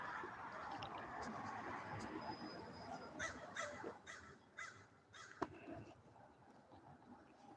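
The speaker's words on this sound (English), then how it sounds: "The crows." Several crows caw outdoors in a run of sharp, repeated calls in the second half, moderately close over faint background noise.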